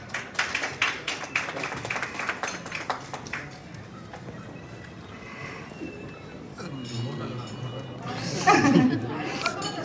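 At a packed theatre press meet celebrating a successful family film, scattered applause greets director Bindo Stephen onto the stage, brisk claps for a few seconds that fade into crowd chatter and a nearby voice.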